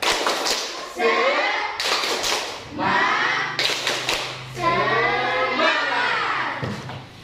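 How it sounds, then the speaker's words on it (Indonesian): A class of schoolchildren does a spirit clap together in a quick rhythmic pattern, with bursts of voices shouting along between the claps. "Kita akan tepuk semangat dulu."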